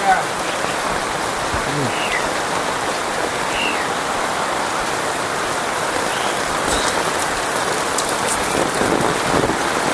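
Heavy rain pours down steadily on a flood-prone village road, a dense, loud hiss of drops on hard surfaces that fills the whole stretch without a break.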